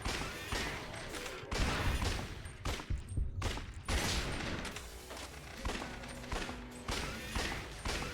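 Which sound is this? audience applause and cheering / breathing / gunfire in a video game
gunfire in a video game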